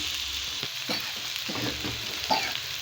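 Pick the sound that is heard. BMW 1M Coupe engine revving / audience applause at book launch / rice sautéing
rice sautéing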